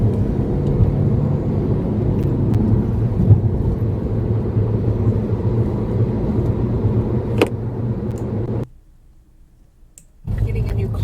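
A car rolls along with its low rumble heard from the passenger seat, the steady engine and road noise dropping out briefly near the end before returning.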